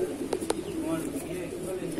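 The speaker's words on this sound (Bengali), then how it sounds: "পায়রাটা হচ্ছে এক দুমের পায়রা" Madrasi pigeons coo softly in a loft at Shyamnagar, with a few low murmuring calls and a couple of sharp clicks or taps, faint and close amid quiet room ambience.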